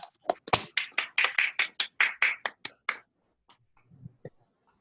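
Scattered claps from online seminar attendees over a video call, a quick run of sharp separate hand claps for about three seconds, then a few faint stray sounds and near silence.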